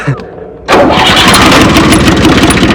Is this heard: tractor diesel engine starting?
yes